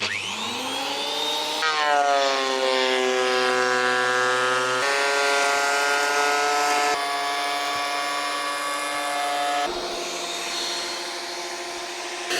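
A power planer makes a pass over wood on a 200-year-old farm, giving a loud, steady motor whine whose pitch shifts in stages over about twelve seconds, with no talking.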